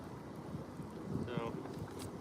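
Steady wind buffeting the microphone outdoors, a low continuous rumble with gusty swells and a brief higher tone partway through.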